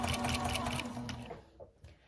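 A sewing machine with a walking foot stitches binding on a small fabric mug rug, running in a close, rapid, steady whir for just over a second before it stops.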